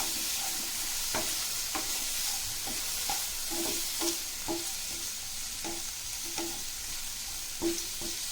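Garam masala, turmeric and salt stirred into a sizzling chilli paneer mixture in a pan, with a soft frying hiss under a run of regular spatula scrapes and taps, close and without talk.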